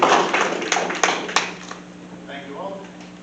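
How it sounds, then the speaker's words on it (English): Scattered audience clapping at a candidate night meeting, a few sharp claps over a fading burst of applause that thins out within a couple of seconds, leaving quiet room tone. "You can all clap."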